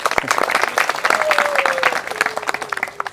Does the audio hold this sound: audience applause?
yes